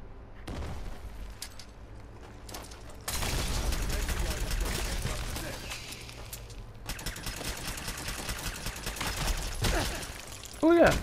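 Gunfire in the video game Fallout 4 as shots knock the shells off crabs: dense, loud bursts of rapid shooting in long sustained stretches, with quieter gaps between volleys.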